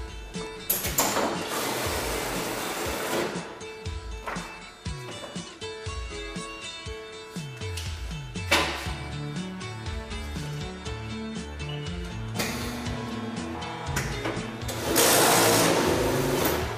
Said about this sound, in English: put it in the clamp, and push the start button. The Digibinder does the rest.